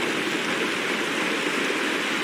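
Rain falls in the Honkai Star Rail video game, a dense, even hiss of steady downpour, fairly loud and continuous, with no voices over it.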